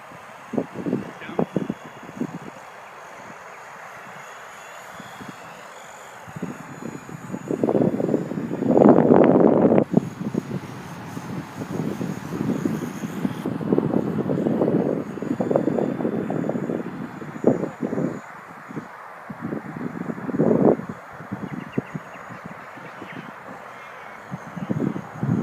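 Strong wind gusts buffet the microphone outdoors while a WLToys V913 RC helicopter flies, with rough bursts of rumbling noise rising and falling in waves and a faint high motor whine above.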